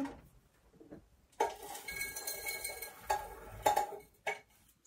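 Small spoon clinking against a thermos while loose tea is scooped in, a few sharp metallic taps and scrapes close by in a quiet room.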